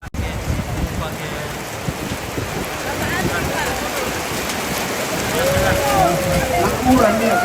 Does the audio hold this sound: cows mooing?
no